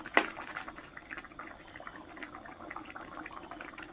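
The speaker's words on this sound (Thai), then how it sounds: "เคี่ยวเบาๆนะคะสําหรับหมูจะได้บ่คาวค่ะ" Pork pieces simmer gently in split coconut milk for a Thai green curry with eggplant, giving a soft, steady bubbling and faint liquid burbling throughout, fairly quiet and close with no voices.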